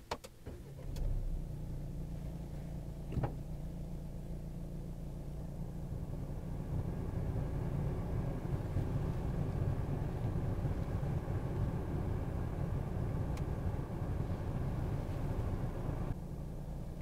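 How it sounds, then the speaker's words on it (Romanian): A Renault Koleos 2.0 dCi diesel with X-Tronic gearbox and 4x4 starts with a brief crank and catches quickly, then settles into a steady, muffled diesel idle heard from inside the cabin. "Motorul pornește destul de rapid."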